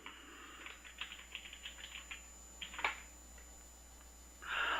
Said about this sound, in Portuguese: eu vou digitar algo aqui